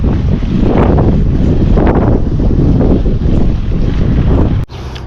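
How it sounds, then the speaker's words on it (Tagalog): Strong wind buffeting a cyclist's microphone on a Saturday morning ride, a loud, continuous roaring gust noise that surges and drops out briefly near the end. "Grabe yung hangin."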